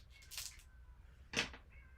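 A house cat yowls in two short bursts while someone pesters it, loud and close, with quiet room noise in between.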